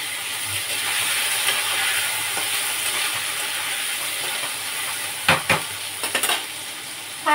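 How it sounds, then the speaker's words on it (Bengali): Eggplant, green chili and mixed vegetables fry in a pan for a Bengali chorchori, giving a steady crackling sizzle, with a few louder bursts of stirring and scraping near the end. "এবারে এই সবজিগুলো আছে, যেটা চচ্চড়িটা করবো আর কি, দিয়ে দিলাম।"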